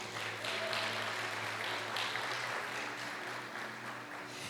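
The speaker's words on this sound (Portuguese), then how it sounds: "Você pode aplaudir a Jesus por isso?" A church congregation claps together after a sermon line, a moderate wash of applause with a steady low hum underneath and no voices over it.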